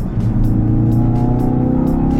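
A Ford performance car's engine revs hard and accelerates on a race track, loud and close, with a steady rising drone and rhythmic gear-like pulses.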